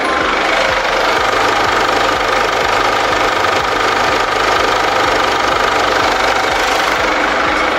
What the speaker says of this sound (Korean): 제가 엔진 소음을 담기 위해서 본네트를 한번 열어봤는데요.